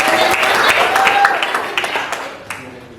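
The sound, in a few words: audience applause for a presenting group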